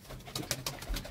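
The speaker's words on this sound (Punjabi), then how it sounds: "ਪੀਲਾ ਕਬੂਤਰ" A pigeon dyed yellow with turmeric gives a short run of soft, low coos in quick pulses, near and faint, with no voices over it.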